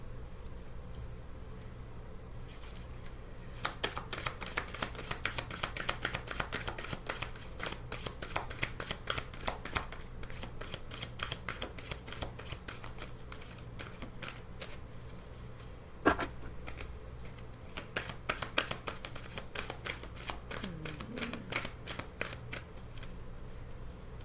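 A deck of tarot cards is shuffled over and over close by, rapid crisp riffling flutters in repeated bursts with a few sharper taps, quiet and without talk.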